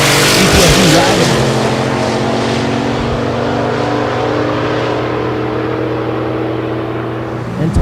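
Street-class drag race cars roar at Thunder Valley in Noble, Oklahoma, a loud, close, sustained engine howl whose pitch sweeps early on, then holds steady before easing off slightly at the end.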